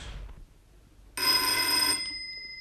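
A telephone bell rings once in a loud, sustained burst lasting under a second, then a faint tone lingers in an otherwise quiet room.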